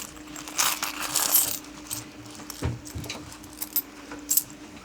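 Coins clink and jingle inside a small fabric bag used as a coin purse during a trip in Japan, in a few short, close rattling bursts.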